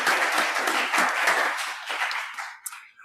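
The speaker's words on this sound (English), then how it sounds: "ask for a round of applause for everyone" Audience applause for a panel at an innovation and entrepreneurship event, a brisk burst of clapping that thins and dies away within three seconds.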